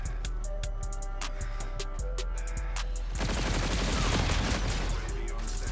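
Rapid automatic gunfire in Call of Duty: Infinite Warfare, a fast stream of sharp shots that swells into a dense, continuous barrage near the end.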